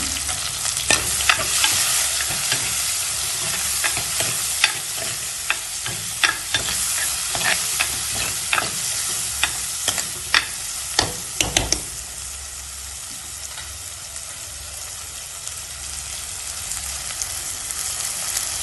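Ingredients sauté in a pan for Jaffna fish curry. A steady, loud sizzle carries frequent sharp spoon scrapes and clicks for the first twelve seconds, then settles into a smoother, calmer fry. No one speaks.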